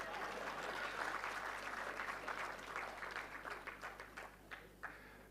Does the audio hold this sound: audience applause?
yes